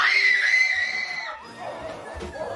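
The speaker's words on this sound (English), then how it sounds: "I turned down most of the screams for you guys because they were super loud." Piercing screams from scary prank footage, turned down in volume, a long shrill cry that fades into rougher shouting and crowd noise.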